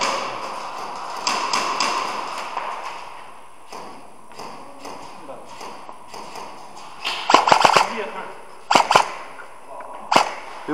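Airsoft HK416 rifle firing during an airsoft survival game, with sharp snapping shots in short clusters, some near and loud, others fainter, amid outdoor background noise and occasional voices.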